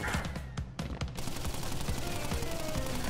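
Enemy gunfire in the video game Crash Bandicoot N. Sane Trilogy, a loud rapid burst of shots in quick succession, the first salvo giving way to a dense continuous clatter.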